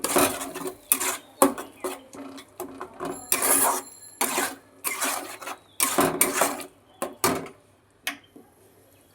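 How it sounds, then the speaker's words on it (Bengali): Curry being stirred in a pot after ground garam masala and dried chilli powder go in, with repeated metallic scrapes and clinks of a utensil against the pot in irregular bursts, close and fairly loud, no talking. "গরম মশলা গুঁড়ো দিয়ে আবার একটুখানি নাড়াচাড়া করে নেব"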